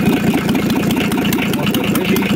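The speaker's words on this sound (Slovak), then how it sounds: "Motor beží." VW LT 31D van with a 2.4 litre six-cylinder diesel idling, a loud close clattering rumble with rapid regular knocks and slightly uneven pulsing, running alone without voices.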